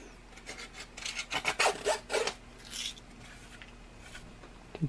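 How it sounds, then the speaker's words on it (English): A metal tube is filed to remove burrs, with several short, quiet rasping strokes in quick succession, close by and alone, then fading to near silence. "we're just going to deburr this a little bit."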